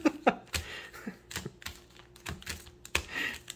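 A Magic: The Gathering collector-booster deck of Double Masters 2022 trading cards being shuffled by hand. Quick, close riffling and tapping clicks come in a busy irregular run, fairly quiet, with no talking.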